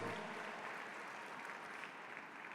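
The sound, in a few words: church congregation applause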